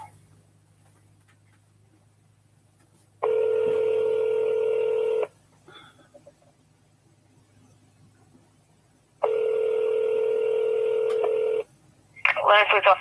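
A phone call to a police department: two long steady electronic tones, each a couple of seconds, separated by near silence, then a short burst of other sound at the end.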